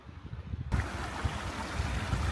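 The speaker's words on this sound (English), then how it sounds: "Basically the water is coming from that Lake Lilia" Stream of water flowing out of a lake on a mountain summit trail, a steady broadband rush that starts abruptly and continues close and fairly loud, with no talk.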